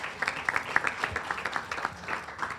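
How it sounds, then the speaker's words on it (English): A small audience at a county civic gathering claps, a faint, distant patter of scattered individual hand claps that goes on for under three seconds. "Please give her a round of applause."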